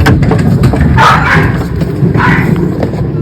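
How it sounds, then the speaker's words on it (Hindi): A dog barks at a gate in the early morning, loud and close, a few sharp barks standing out over a noisy background. "है कुत्ता यहाँ पे।"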